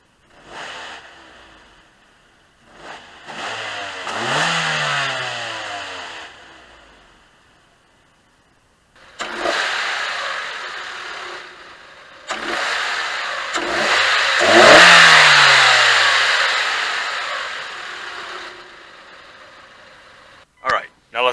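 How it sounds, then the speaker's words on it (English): 2007 Hyundai Tucson GLS engine revved from idle in several bursts, each roaring up in pitch and then falling away, with quiet gaps between them and a loud, close sound. "do a few revs, and see how it sounds"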